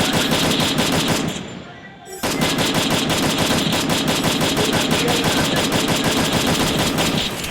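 Automatic weapons fire in the battle-royale mobile game Free Fire, with rapid, continuous bursts of gunshots, loud and dense, broken by one short lull before the rattling volleys resume and keep going.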